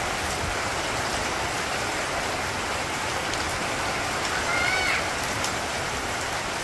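Rain falling steadily in a village setting, a dense even hiss of drops on surfaces heard close and unbroken, with no voices.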